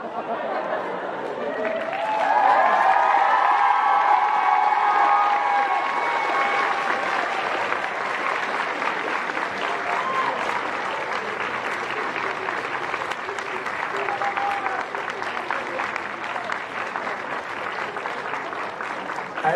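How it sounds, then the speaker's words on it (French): A crowd at a solo performance at Senyu 2016 breaks into sustained applause with cheers and whistles, loud and steady for the full length, with a high whistle or shout early on and some chatter beneath. "Allez, on applaudit bien fort!"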